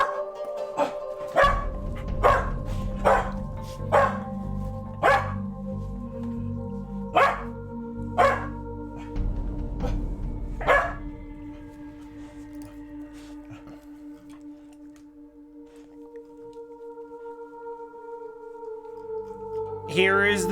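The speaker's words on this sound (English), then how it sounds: "Are we good with barks? Because there will be barks." Two dogs bark in loud, sharp bursts at an irregular rhythm close by, about ten barks over the first eleven seconds, set against a steady electronic game hum that carries on alone afterward.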